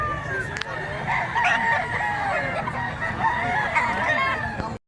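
A young silver grey gamefowl rooster (bullstag) crows loudly and close, its long call repeated over clucking fowl at a Mantalungon, Cebu market, with people talking faintly behind.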